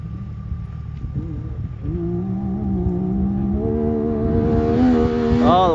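A Yamaha YXZ side-by-side accelerates hard on a dirt competition track, its engine climbing through rising, whining revs with audible gear changes, loud and close, no talking.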